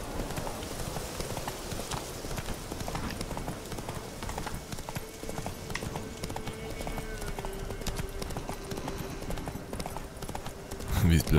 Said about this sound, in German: Das sind ganz viele Pferde